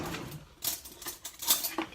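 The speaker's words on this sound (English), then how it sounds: "We have to stir it up a little bit." A spoon clinks and scrapes against a bowl while a mixture is stirred, a few light metallic taps and rubs spaced irregularly over two seconds, close and fairly quiet with no talking.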